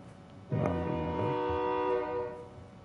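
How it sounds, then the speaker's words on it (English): A train horn sounds a sustained, slightly wavering blast from some distance with a faint rail rumble beneath, then fades away. "I should take that train."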